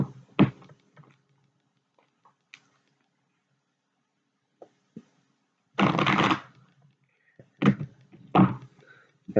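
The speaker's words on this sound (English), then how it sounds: "You guys know I suck at shuffling" A deck of playing cards is shuffled by hand in a quiet room, giving several short riffling bursts with one longer sustained riffle, separated by soft taps and pauses.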